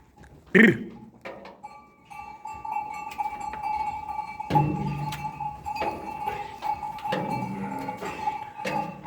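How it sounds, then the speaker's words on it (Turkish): Cowbells clank and jingle over a low hum as sheep come out of a pen, with a sharp clatter near the start and scattered knocks throughout. "Ve koyunlarımız çıkıyor."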